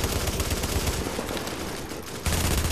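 Dense continuous gunfire from a gun in The Division, a video game, pours out loud and close with rapid shots blending into a steady roar, then surges heavier near the end.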